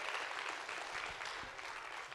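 Audience at a veterinary student clinic year-end presentation gives a round of applause, a soft, distant-sounding spread of clapping that runs evenly throughout.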